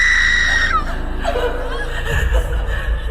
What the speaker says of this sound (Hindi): वो चिल्लाती हुई जोर जोर से रोने लगी।